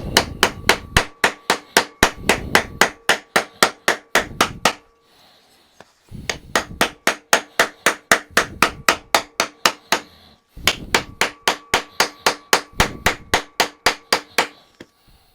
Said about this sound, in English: Might have to use a metal hammer.